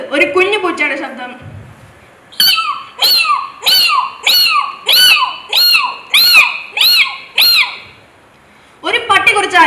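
A mimicry artist at a school arts festival voices a kitten's mewing: after brief talk, about eight short, high-pitched mews in quick regular succession, close and clear, with speech resuming at the end.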